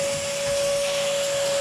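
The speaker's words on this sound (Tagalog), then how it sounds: "So, i-vacuum muna namin." A vacuum cleaner runs steadily while a room is being cleaned, giving a loud, constant motor whine with a strong tonal hum throughout.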